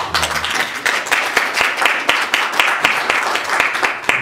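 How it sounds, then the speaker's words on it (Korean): Attendees at a church council executive committee meeting applaud after an audit report, a lively burst of many hands clapping with distinct close claps punctuating the dense, fairly loud mass. "우리 힘찬 박수 한번 보내주시고이"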